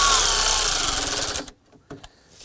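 A power tool driving screws snug on a Volvo S60 HVAC blower motor assembly: a loud, close, rapidly pulsing whir for over a second, stopping abruptly, followed by a couple of faint clicks.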